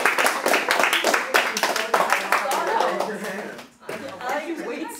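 A class audience claps on request after a talk by a Boston Bruins hockey producer, a dense patter of hands lasting several seconds with chatter and a few chuckles mixed in, then thinning out as people talk.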